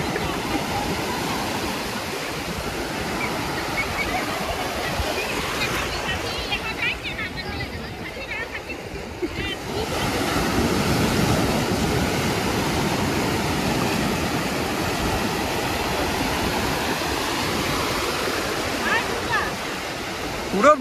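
Sea waves wash onto the beach at Puri, a continuous rushing surf that swells louder midway, with people's voices faintly mixed in.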